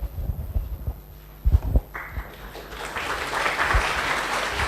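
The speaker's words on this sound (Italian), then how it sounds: "A me non lo fate però l'applauso, perché sennò divento rossa" Audience applause at a lecture swells in partway through, starting after some thumps and shuffling and building into steady, moderately loud clapping from a seated crowd.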